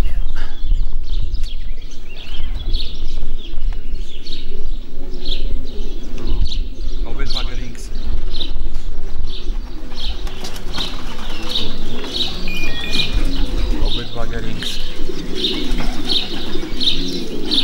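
Racing pigeons return to the loft after a 340 km race from Torgau, cooing and flapping their wings close by while several people talk loudly throughout.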